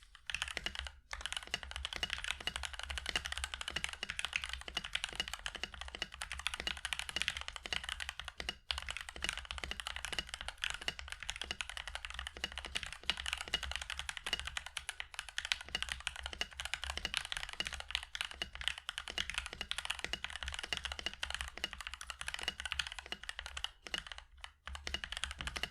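Continuous fast typing on a modded Gamesense Clutch mechanical keyboard, a dense, even stream of crisp close keystrokes with occasional pauses, heard alone.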